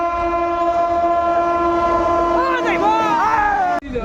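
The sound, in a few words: riding inside a crowded passenger train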